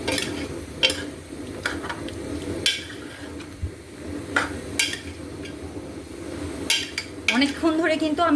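A utensil stirs meat in a pot while cooking Kabuli pulao, giving irregular metallic clinks and scrapes against the pot over a low background, with a voice briefly at the end.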